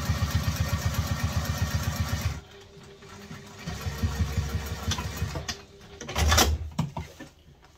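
A sewing machine stitches wallet fabric in steady rapid bursts up to a mark, the motor whirring close and loud, pausing, then running again briefly.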